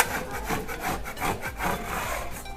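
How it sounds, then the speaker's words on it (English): A 5-in-1 tool scraping loose drywall compound from around a hole being patched, giving a continuous rough grating scrape in repeated strokes, close and fairly loud, with no talk. "You can either use what we call a 5-in-1 to scrape that area off, or just your drywall blade will do the same."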